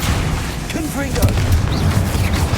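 Rumbling blasts from the Confringo blasting spell in Hogwarts Legacy, a loud, steady, booming roar of explosions with a voice briefly calling out over the noise.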